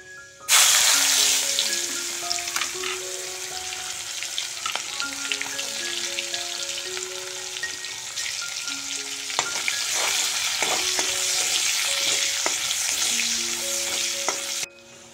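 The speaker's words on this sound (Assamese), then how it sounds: "পাঁচফোৰণখিনি দিয়াৰ লগে লগেই মই দি দিম এই পিঁয়াজখিনি" Onions and panch phoron spices hit hot oil in a pan for a fish and ridge gourd dish, giving a loud, steady sizzle with intermittent stirring scrapes and clinks throughout.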